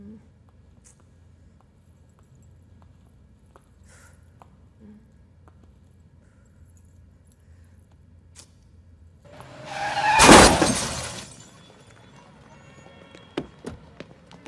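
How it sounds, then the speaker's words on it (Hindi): Film car crash effect: after near silence, a sudden loud surge of skidding tires and impact noise swells and peaks, then falls away into a few scattered sharp clinks and knocks like settling glass. "गाड़ी ठोक दी मेरी।"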